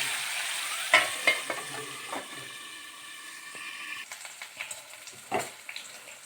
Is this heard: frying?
yes